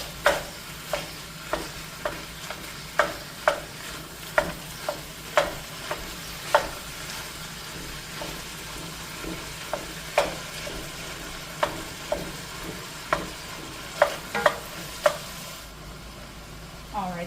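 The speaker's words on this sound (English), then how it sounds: "to add the 2 pounds of ground beef, and we're just going to saute that until it's browned up" Two pounds of ground beef brown with vegetables in a pan for cottage pie, a low continuous sizzle punctuated by regular sharp scrapes and taps of a utensil, close and clear, quieting near the end.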